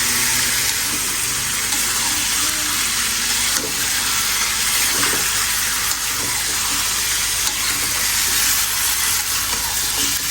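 Meat and potatoes sauté in a pan with a steady, even sizzle and hiss that runs unbroken from start to finish, close and fairly loud, with no talking.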